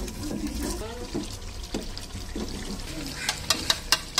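Water splashes and gurgles as it is poured into a pan of chicken curry, a steady watery rush with a faint voice underneath, ending in a few sharp clinks of utensil against the pot.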